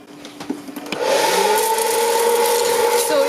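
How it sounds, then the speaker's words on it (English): Coffee beans being stirred with a wooden spoon as they roast in a pan, a steady close rattling scrape over a constant mechanical hum, with a few scattered clicks before it swells. "you would not need to do this with the hot pad and the wooden spoon"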